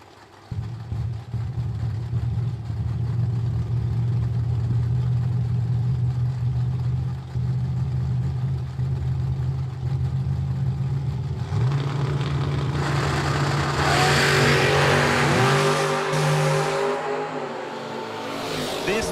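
Old-school bracket drag race cars, including Steve Presley's Camaro, idle with a low steady rumble, then launch into loud revving acceleration that builds and roars away near the end.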